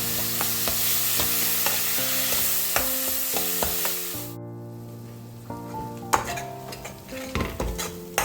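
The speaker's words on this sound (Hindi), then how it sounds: "कुटा हुआ अदरक और लहसुन और बारीक कटी हुई हरी मिर्च सब मिला के इसको, मसाले को हमको भूनना है।" Crushed ginger, garlic and finely chopped green chilli masala frying with onions in a pan, a steady sizzle with repeated metal spoon scrapes and stirring clinks, the sizzle dropping away midway before stirring knocks resume.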